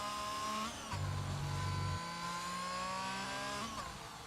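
A Formula 1 car in a racing video game at the French circuit revs up through the gears, its high engine whine climbing in pitch with quick shift breaks, loud and continuous with no talk.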